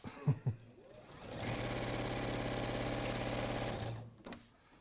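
A domestic sewing machine runs flat out for about two and a half seconds, a steady rapid mechanical whir with a humming motor, bracketed by a few clicks and handling knocks, close and clear.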